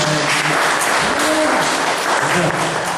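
Audience applause at an Indonesian talk, a steady wash of clapping across the whole stretch with a voice speaking through it.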